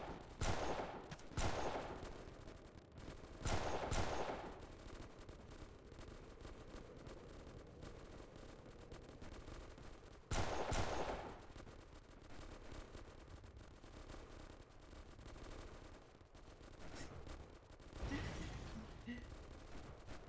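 Gunfire barrage in the PC shooter Delta Force Xtreme: distant crackling bursts of automatic fire come in several separate clusters over a steady low background, with quieter gaps between volleys.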